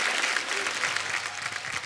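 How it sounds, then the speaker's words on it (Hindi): Studio audience on a cricket talk show breaks into applause, a brief dense wash of many hands clapping, steady and fairly loud with no clear talk. "तालियां बनती है इस बात के लिए"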